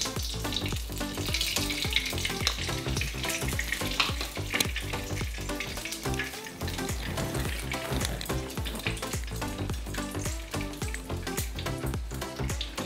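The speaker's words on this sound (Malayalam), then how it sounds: "ആദ്യം തന്നെ നമുക്ക് 2-3 സ്പൂൺ നെയ്യ് ഒഴിക്കും." Ghee heats in a pan for rava vegetable upma, giving a steady, continuous sizzle and frying hiss beneath background music throughout.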